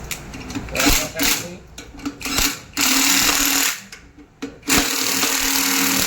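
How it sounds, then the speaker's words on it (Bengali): A nut is worked loose on a washing machine drum, giving a gritty, buzzing mechanical rasp in several bursts, with sustained stretches between pauses and a voice speaking over it. "এই আবার নাট ফাঁসিয়ে দিলাম।"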